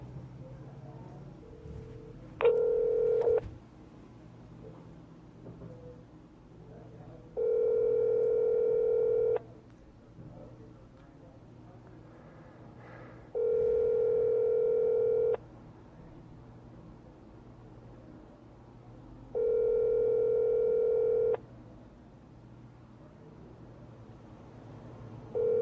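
A telephone line sounds four steady dial-type tones in even bursts about two seconds long with pauses between, while calling the Los Angeles Department of Building Safety, over a low background hum.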